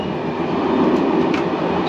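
SNCF passenger train with Corail coaches running on rails in France, heard from inside as a loud, steady rumbling roar with no clear clicks or voices.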